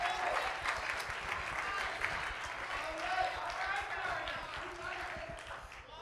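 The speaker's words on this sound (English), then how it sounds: "Give another round of applause." A church congregation at a Black History program applauds with sustained, dense clapping that stays fairly loud throughout, and voices are heard over it.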